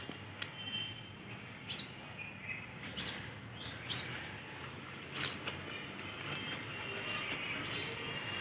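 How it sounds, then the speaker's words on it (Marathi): Birds, including a mynah and a sunbird, call in a garden of pink-flowering plants. Short, sharp chirps repeat roughly every second, fairly faint and moderately distant over a steady outdoor hiss, with no voices. "बघा पक्षी पण आलेले आहेत."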